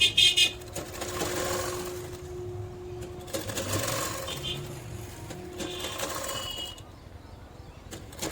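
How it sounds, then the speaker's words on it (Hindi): A sewing machine runs in bursts as it stitches a decorative sleeve, its rattling mechanism coming and going between pauses while a voice talks over it. "इसके ऊपर से हमने एक लब की सिलाई लगा ली है इस तरह से।"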